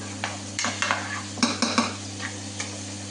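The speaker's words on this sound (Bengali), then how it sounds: "অন্য আরেকটা ফ্রাই প্যানের মধ্যে আমি একশো পঞ্চাশ মিলিগ্রাম তেল ঢেলে দিলাম যে বাকি যে পেঁয়াজটা ছিল সেটা আমি এখানে ঢেলে দিলাম" Onions fry in oil in a frying pan while a utensil scrapes and knocks against it in short bursts, over a steady low electrical hum, without talking.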